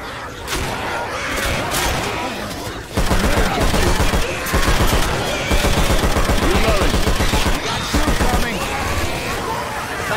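Loud sustained gunfire in the Left 4 Dead 2 video game, dense bursts of rapid shots and heavy volleys rolling on for about ten seconds, with players shouting and talking over the barrage.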